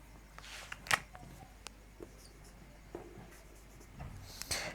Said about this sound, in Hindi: मैं एक और डेफिनेशन लिखता हूं